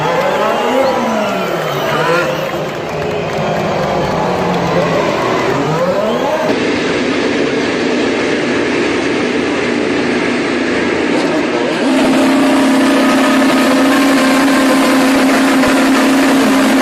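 IndyCar race cars in a racing video game roll up to the starting grid at a night Grand Prix in Las Vegas, their engines giving a loud, continuous drone that rises and falls in pitch and then settles into a steady tone.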